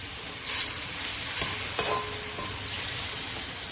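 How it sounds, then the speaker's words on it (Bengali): Ground cumin, coriander powder and turmeric sizzling with a splash of water in a pan of oil for Bengali katla fish curry, a steady close hiss with a few sharp stirring clicks. "জিরের গুঁড়া ধনিয়া পাউডার শুকনো মশলা দিয়েছি তো পুড়িয়ে যাবে না হলে একটু জল দিলাম"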